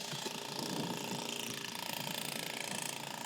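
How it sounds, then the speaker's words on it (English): Hand ratchet being cranked on a strap for a pole tent during outdoor installation, a rapid, continuous clicking close to the microphone, steady and loud with no talk. "These are the hand ratchets."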